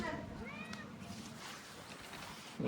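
A pet cat meows a few times in a home, its short, rising cries overlapping with people chatting nearby.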